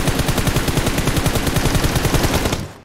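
Rapid automatic gunfire from a shooting video game, a dense, loud, steady burst of evenly spaced shots lasting nearly three seconds before cutting off abruptly.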